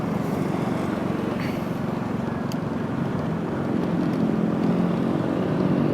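A Honda Vario motorcycle engine with a leaking head gasket runs steadily at idle, a continuous low mechanical drone with a faint rhythmic puffing, close and unchanging throughout.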